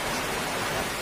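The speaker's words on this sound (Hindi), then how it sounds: "देखो क्या बारिश हो रही है।" Heavy rain pours down outdoors during a downpour, with a guava tree nearby: a dense, steady, loud broadband hiss that fills the whole second without a break and without any voice.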